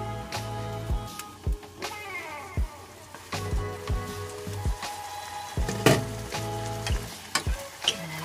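Chicken with onion and oyster sauce fries and sizzles in a pan while a utensil stirs and scrapes now and then, steady close crackle running throughout with no talking.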